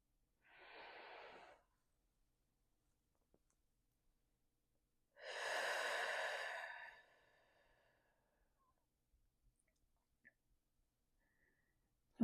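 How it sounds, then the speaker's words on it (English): Two slow, deep breaths during a guided meditation, a soft inhale followed after a pause by a fuller, louder exhale, close and quiet with silence between them and no talking. "with breath number 3, let's imagine the breath going all the way down to your base and then out through your crown"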